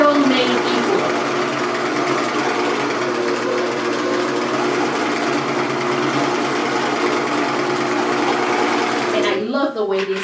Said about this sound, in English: I love the way this machine sounds because it sounds like a real sewing machine.